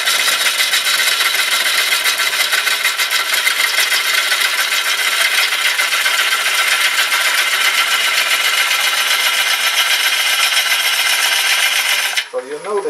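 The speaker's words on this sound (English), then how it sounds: "This is a push cut and I'm rubbing the bevel." Lathe gouge making a push cut on a wet, soft wood bowl with the bevel rubbing, a loud continuous hissing shear that holds steady before stopping abruptly near the end.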